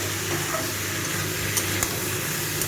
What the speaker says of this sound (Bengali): শোলা কচুটাও খুব ভালো করে কষানো হয়ে গেছে।